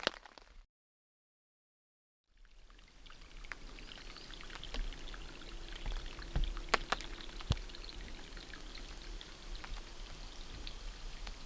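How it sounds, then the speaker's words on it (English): Rain falls steadily outside a tent at night, a soft continuous patter with scattered louder drops tapping close by after a brief silence at the start. "It's raining. I don't know if you can hear that, but it's raining outside"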